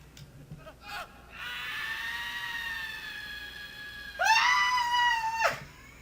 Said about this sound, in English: I realized it was a high-pitched girl scream